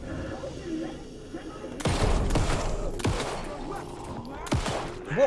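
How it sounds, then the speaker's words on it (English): Explosions in the video game Alan Wake 2: a series of loud, sharp broadband blasts with booming low ends, about four of them spaced roughly a second apart, over a rumbling game soundtrack. "What was the explosion?"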